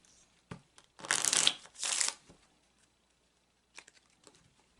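Oracle cards being shuffled in the hands, with two dense riffling bursts in quick succession followed by a few soft taps and card rustles, close and quiet, without any talking.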